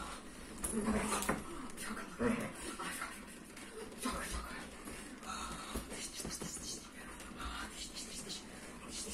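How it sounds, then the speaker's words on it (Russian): Russian borzoi dogs whimpering, panting and scratching on a bed at home, irregular close rustles and breathy bursts while a person talks excitedly over them. "О, собаки! О, собаки, собаки, собаки!"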